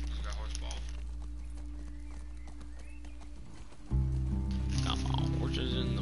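Horse hooves clip-clopping in The Last of Us Part II, a steady gait under continuous game audio and a talking voice, with a louder shift in background sound partway through.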